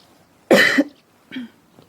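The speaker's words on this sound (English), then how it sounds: "Cough for me." Two coughs close by, a strong one followed by a shorter, softer one, with quiet in between.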